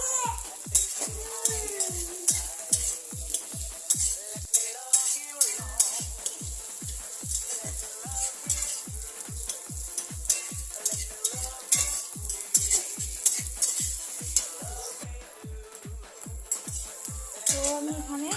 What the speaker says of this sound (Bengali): এই অবস্থায় আমি এখানে লঙ্কা আর পেঁয়াজটা